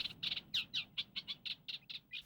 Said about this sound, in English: In the lagoon, we hear the sound of the birds which awake from the darkness of the night.